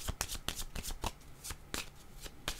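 A deck of cards shuffled close up, a rapid rhythmic series of riffling bursts and taps filling the whole stretch, fairly quiet and alone.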